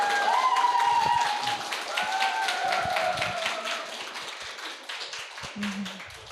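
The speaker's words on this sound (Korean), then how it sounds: "모실 때 여러분들이 큰 박수로 맞이해 주시면 감사하겠습니다" An audience at a Mannatech business success-story event breaks into sustained applause to welcome a speaker to the stage, dense clapping that starts loud and slowly thins, with faint tonal sounds running underneath.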